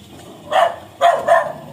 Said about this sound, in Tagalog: Ay, mga aso.